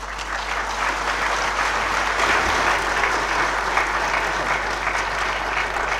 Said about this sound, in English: Please express your gratitude by a big applause.